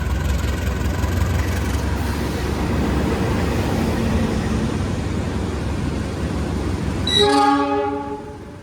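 The Semeru passenger train pulls into Madiun station on track 1, a loud sustained rumble of rolling cars that ends with a sharp, close horn blast near the end.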